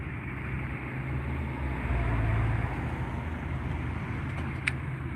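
A parked car's engine idles with a steady low rumble that holds close and even throughout, with faint wind noise over it.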